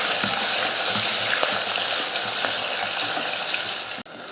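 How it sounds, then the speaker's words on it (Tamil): Small onions, sliced onions and curry leaves sauté in hot oil for sambar, giving a steady, close sizzling hiss with faint stirring scrapes throughout and a brief dip near the end. "இது நல்லா வதக்கிடுவோம்."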